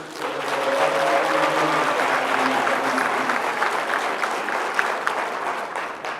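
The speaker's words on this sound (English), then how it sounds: "one round of applause one more time for our parents" An audience at a high school signing day event applauds the players' parents, a steady wash of clapping from many hands that holds throughout, with faint voices and a hum mixed in beneath.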